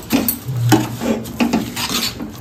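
Roasted sesame seeds, peanuts, coconut and cardamom powder are stirred into sugar syrup in a pan for sesame ladoos, giving close, rhythmic scraping and rubbing strokes of a spoon against the metal, with no talk.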